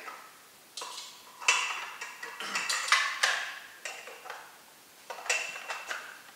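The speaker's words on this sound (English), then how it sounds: "So we put the blades back in." Metal blender blades are set back into a Thermomix bowl, producing a series of sharp clinks and metallic clatters at close range, spaced irregularly over several seconds with no talking.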